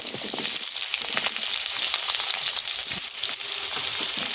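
Aubergine and potato pieces fry in hot oil seasoned with nigella seeds and dried red chillies, a constant close sizzle with occasional spatula scrapes and no talking.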